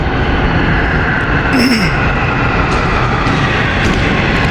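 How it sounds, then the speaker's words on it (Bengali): A metro train pulls into a station with a loud, steady rumbling roar close by, a brief rising whine of the motors sounding partway through. "এই যে স্টেশনে মেট্রো এসে পড়ছে মেট্রো আসতেছে"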